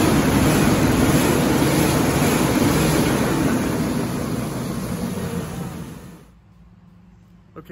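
A Ford Ranger pickup with a check engine light, a stumbling idle and a cylinder 4 misfire code is revved hard. The loud, roaring engine slowly winds down and cuts off near the end, followed by a brief spoken word.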